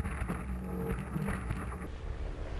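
P1 SuperStock powerboats race on the open sea, a steady, windy engine roar with water rush heard from a distance and buffeted by microphone wind throughout.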